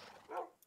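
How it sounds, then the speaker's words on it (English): Dogs in the room next door let out a brief, muffled yip or whimper, faint and distant-sounding, lasting under a second. "you can hear my dogs in the room next door."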